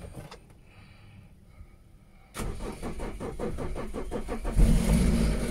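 A 2013 car that has sat unused for two to three years cranks with a rapid rhythmic chugging of the starter, then catches and settles into a steady, close running engine.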